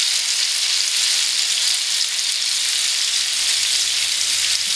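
Sugared peach halves fry in a pan with a steady, close sizzle that stays even and loud throughout, with no voices over it.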